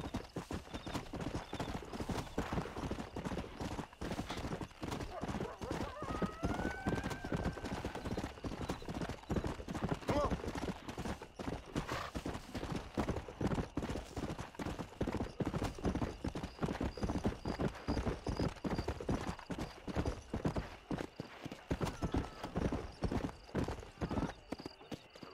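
Horse hooves clip-clop at a steady brisk gait in the video game Red Dead Redemption, dense rhythmic strikes that continue nonstop, with a brief whinny and occasional faint speech underneath.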